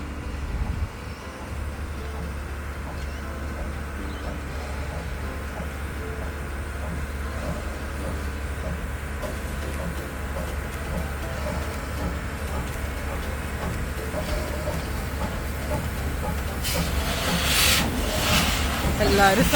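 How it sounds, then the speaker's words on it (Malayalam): Train moving along the line on a trip to Mount Buller in Eastern Victoria, a steady low rumble with rail rubbing and rattling that grows louder toward the end, with no talk. "ഞങ്ങൾ ട്രെയിൻ മൂവ് ചെയ്യുന്നത് കാണാൻ വേണ്ടി നിൽക്കുക"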